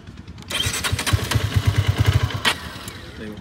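Hero Karizma XMR 210 motorcycle engine cranking and catching, then a quick burst of rapid pulsing firing that settles toward a lower idle, close and fairly loud.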